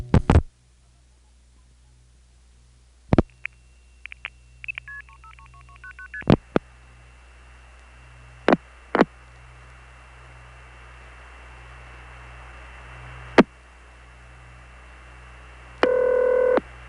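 A series of short telephone dialing tones beeps in quick succession over a faint line hiss, with a few clicks and a brief tone near the end, on a long-distance call from New York City to the 315 area.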